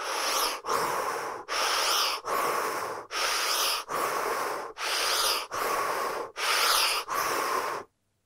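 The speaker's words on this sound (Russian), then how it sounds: "Нужно будет представить этот канал и начать дышать таким образом." Rhythmic breathing exercise: about ten forceful, noisy breaths at an even pace of roughly one per second, each a loud rushing burst with short gaps between, close and alone.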